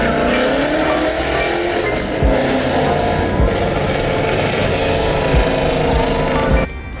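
A loud, continuous Ford Mustang Boss engine roar with rumbling exhaust at a car meet, steady throughout and close by, dropping slightly near the end.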